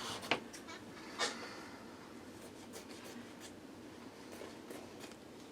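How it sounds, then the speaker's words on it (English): Scissors snipping away excess quilt batting beside a machine embroidery hoop, a few quiet close cuts and soft rustling scrapes of fabric, faint and brief. "I am going to just trim a little excess batting here"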